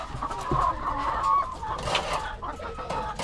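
Pet chickens clucking nearby in a backyard coop, a run of short, soft clucks and murmurs from several hens with some light rustling around them.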